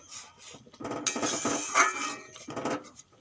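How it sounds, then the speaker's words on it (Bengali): The metal lid comes off a pot of boiled mung dal with a few clinks and scrapes at close range, then a brief metallic ring and more handling clatter, with no talking. "চাপা খুলে দেখে নেব"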